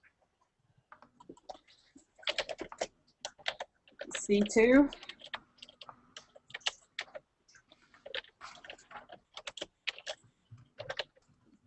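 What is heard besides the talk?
typing on a noisy computer keyboard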